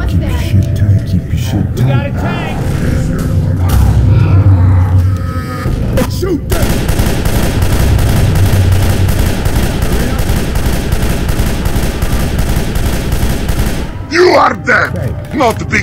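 Rapid gunfire from survivors shooting at the Tank in the video game Left 4 Dead 2 rattles in sustained, loud bursts, with voices shouting over the shooting at the start and near the end.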